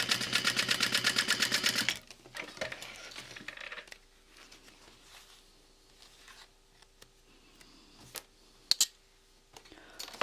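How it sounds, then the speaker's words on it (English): Sewing machine stitching a clutch wallet, a fast rapid whir of stitches for about two seconds, then stopping, followed by quiet handling clicks and small taps. "sew that into place"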